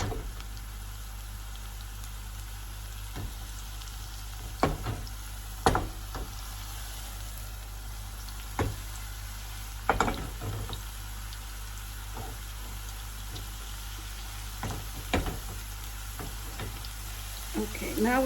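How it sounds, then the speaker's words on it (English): Chopped spring onion sizzling in hot oil in a pan, a faint steady frying hiss with scattered soft pops and spatters throughout, no talk. "You can see the onion is sizzling."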